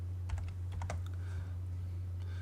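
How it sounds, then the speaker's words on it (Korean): Several quick keystrokes on a computer keyboard, ending with the Enter key, while entering the XL command in AutoCAD: a few light, close clicks over a steady low hum. "XL을 입력하고 엔터 클릭."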